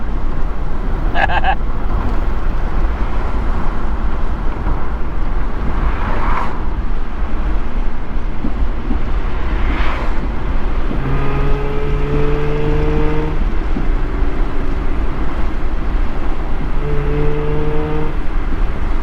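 A 2005 Mazda RX8 engine runs steadily up close, a continuous low rumble that rises in pitch twice near the end as it revs.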